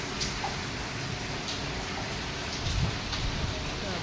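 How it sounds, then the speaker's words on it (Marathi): Heavy rain pours steadily in cold wind during the Dussehra festival season, a dense, even hiss with scattered drop splashes and a brief swell of louder noise near the end. "पाऊस नुसता पडतोय काय कळत नाही."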